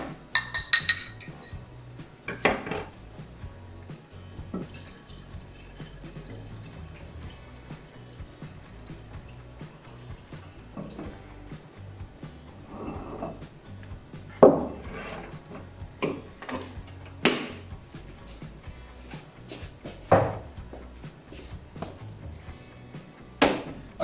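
A container of sugar wash with gelatin added is shaken, giving intermittent clinks, knocks and sloshing liquid sounds in scattered bursts, with quiet gaps between them.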